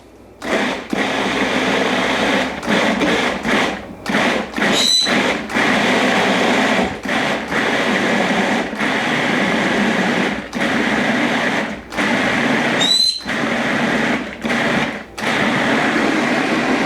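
A blender whirs in repeated bursts while making meat sauce, pulsing on and off in short runs with brief pauses between, loud and close.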